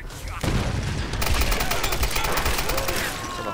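Dense automatic gunfire fills the Tomb Raider reboot, loud and nearly continuous with rapid repeated shots and booms. A player talks faintly underneath.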